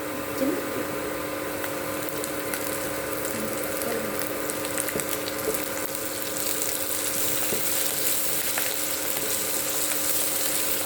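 Chicken curry ingredients frying in a pan until brown, a steady dense sizzle and crackle throughout with occasional faint scrapes, no talking.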